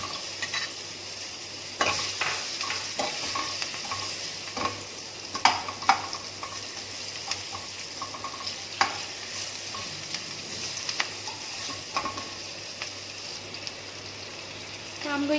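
Onions fry in a pot for a carrot tomato soup, a soft steady sizzle with intermittent scraping and clinking stir strokes, moderately close and unaccompanied by talk.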